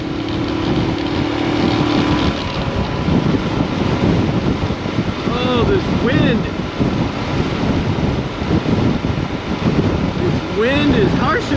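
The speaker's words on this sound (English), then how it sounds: "Wind is harshing my mellow." Heavy, steady wind buffeting roars across the microphone at speed on a Royal Enfield Himalayan motorcycle riding toward Calgary, Alberta, with an engine droning beneath and a few brief vocal sounds mixed in.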